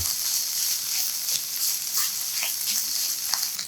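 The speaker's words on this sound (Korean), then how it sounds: "기름이 부족하면 올리브유 2스푼 추가하고 야채가 숨이 죽을 때까지 볶아줍니다." Vegetables stir-frying in olive oil give a steady, bright sizzle with occasional crackling pops, close and alone without talk.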